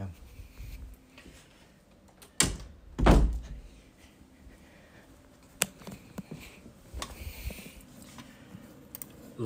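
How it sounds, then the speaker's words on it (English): A front door being shut and locked at home: a couple of heavy wooden thuds around the middle, followed by smaller clicks and knocks of the lock, with faint room noise and light movement in between. "just gotta make sure the front door is locked"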